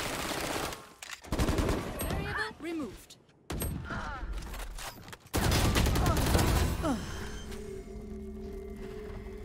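Stinger submachine gun firing in Valorant, rapid bursts of shots that start and stop repeatedly, mixed with other game effects and occasional talk over a dense, loud mix.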